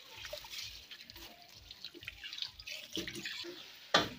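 Rice being washed in water at home before cooking beef pilau: faint sloshing and dripping close by, with soft splashes and a sharper splash near the end.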